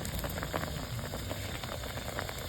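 A pot of broth with fish bubbles at a steady rolling boil, a dense continuous hiss and gurgle with no voices over it.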